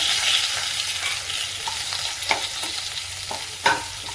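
Finely chopped onion sautés in a pan with a steady hiss, broken by a few scraping stirs of a spoon, close and moderately loud.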